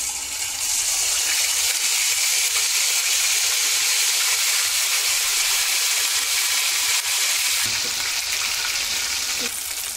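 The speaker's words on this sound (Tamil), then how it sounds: "மட்டனை பொறிச்சு எடுக்க போகிறோம் நல்லா பொறிச்சு எடுக்க போகிறோம் இதை வந்து நல்லா டீப் ஃப்ரை பண்ண போகிறோம்" Pieces of boiled mutton deep frying in hot oil in a kadai for kebabs, giving a loud, steady, close-up sizzle and crackle that runs unbroken throughout, with no talking.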